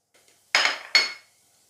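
Two sharp metallic clinks of small floured tart tins knocking together ring out close in a quiet kitchen, followed by a short fading ring.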